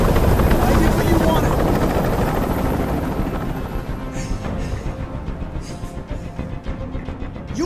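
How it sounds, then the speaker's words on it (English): A helicopter hovering overhead in the video game Detroit: Become Human, its steady rotor roar loud and continuous, easing slightly later as voices and other sounds cut through. "I can't stand that noise anymore. Tell that helicopter to get out of here."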